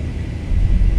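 Airliner engines spooling up to takeoff thrust in a flight simulator game, a steady loud low roar and rumble that grows heavier partway through, with no voices.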